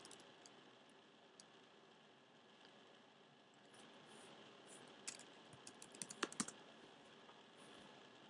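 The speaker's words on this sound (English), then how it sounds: "Let me type in the title again." Keys tap on a computer keyboard as a title is typed, faint at first, then a quick run of sharper, closer clicks near the end, with no voices.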